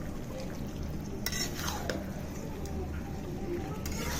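Chicken kosha is stirred in a pan under a low sizzle, with soft scraping and a few light metallic clinks from the spoon against the pan.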